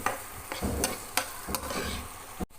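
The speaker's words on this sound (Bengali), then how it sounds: "পেঁয়াজটা একটু ব্রাউন হতে হবে, একটু ব্রাউন করে ভেজে নেবো।" Onion frying in a pan while being stirred, a soft sizzle under repeated sharp scrapes and knocks of the spatula against the pan, with faint construction noise in the home.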